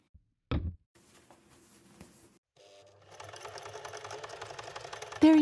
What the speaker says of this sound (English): let's go get the sewing machine out